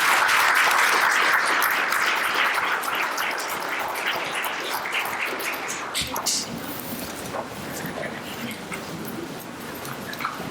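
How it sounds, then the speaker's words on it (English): A round of applause at a board of education meeting, dense clapping that starts loud and gradually thins into scattered claps and room murmur, with a few children's voices mixed in. "So let's give one more round of applause."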